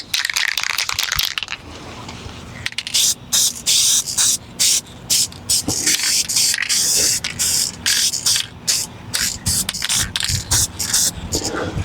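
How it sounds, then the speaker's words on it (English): Aerosol spray paint hisses in repeated short bursts as AMC metallic blue engine enamel is sprayed onto the engine block of a 1976 Jeep CJ-5 with an AMC 304. The bursts are close and loud, with brief pauses between them. "I've started painting the block, or painting everything, with this Seymour AMC metallic blue"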